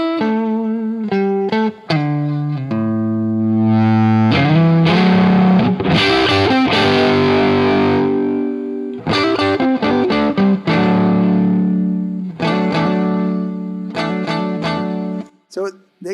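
Electric guitar with Strat-style single-coil pickups played through effects, loud and distorted, with strummed chords and sustained notes, brief gaps between phrases, alone without talk.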